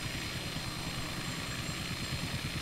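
A helicopter flies near the Cliffs of Moher, practicing takeoffs and landings, its rotor and engine droning in a steady, loud, dense thrum with a rapid low beat throughout.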